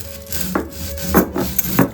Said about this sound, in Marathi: आता आम्ही कसं इथे गावाला पाट्यावर वाटतो, तुम्ही मिक्सरला पण वाटू शकता.